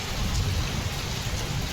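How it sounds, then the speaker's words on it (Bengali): Torrential morning downpour during a sudden storm with gusty wind, a dense steady hiss of heavy rain pounding surfaces with a deep rumbling low end, continuous and loud with no voices. "এই যে মুষলধারা বৃষ্টি শুরু হলো"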